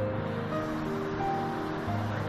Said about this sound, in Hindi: अब इसमें हम डालेंगे थोड़ा सा पानी